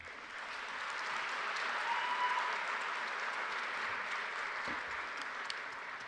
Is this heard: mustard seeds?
no